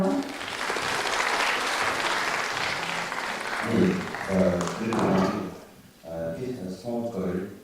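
A university business idea competition audience claps for a presenting team; steady applause fills the first half, then fades as a speaker's voice takes over near the end.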